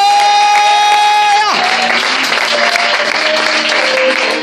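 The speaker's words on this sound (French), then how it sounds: "On peut acclamer pour eux." A church congregation in Côte d'Ivoire bursts into loud applause and cheering for the singers, sung notes fading out as the dense clapping and shouts take over and continue to the end.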